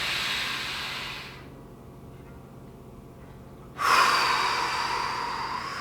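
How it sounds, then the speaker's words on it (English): Deep breath drawn in through the nose during a slow neck stretch, a steady airy hiss that fades to near silence, then a strong exhale rush follows, close and clear with no talking. "Again, breathing through the nose."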